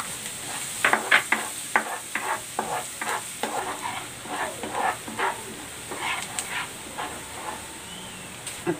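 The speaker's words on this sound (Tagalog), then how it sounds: "magkigisa na ako ng bawang" Garlic sautéing in rendered pork fat for bagoong alamang, a close sizzle broken by repeated scraping stirs and clinks of the spatula against the pan.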